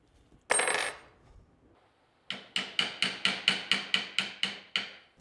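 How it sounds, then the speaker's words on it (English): A punch tapping a roll pin into a gas block held in a vise: about eleven sharp, evenly spaced metallic taps at close range, each ringing briefly, following one louder clattering knock and a pause. "we'll just kind of start tapping it in."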